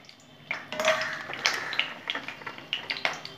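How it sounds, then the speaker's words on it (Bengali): Lentil badi dumplings fry in hot oil, giving close, scattered crackles and pops with a few clinks, rising after a quiet start and continuing in irregular bursts. "তেল গরম করে নিয়েছি, বড়িগুলো ভেজে নেবো।"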